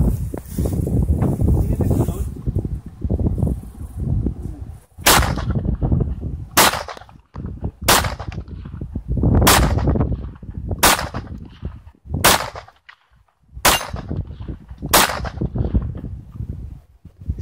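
A Hi Point CF 380 compensated pistol fires nine sharp, loud gunshots at roughly one-to-two-second intervals, each a sudden crack, with outdoor wind and low rumble filling the gaps.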